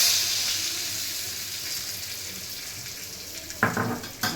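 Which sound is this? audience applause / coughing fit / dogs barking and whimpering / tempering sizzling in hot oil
tempering sizzling in hot oil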